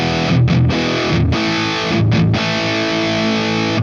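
Thick, saturated electric guitar runs through the ML Sound Lab Amped Oracle amp simulator's Vorna engine, with loud, sustained distorted chords punctuated by short rhythmic chugs and a full, rich tone.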